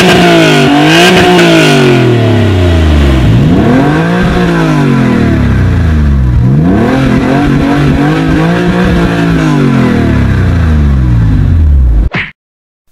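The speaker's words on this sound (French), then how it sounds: "le Flat Six, c'est surtout un son. Une musique très grave, caverneuse même" A Porsche 911 996 Cabriolet's flat-six engine revs repeatedly, rising and falling through several loud, deep, close sweeps before cutting off abruptly at the end.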